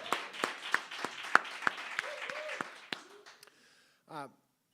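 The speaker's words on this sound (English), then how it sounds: "Let's give Maya a round of applause as well." Sparse clapping from a small group at a Democratic Party of Wisconsin event in a cafe, individual claps spaced out and fading, followed by a brief voice.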